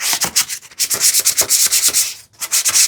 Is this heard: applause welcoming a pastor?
no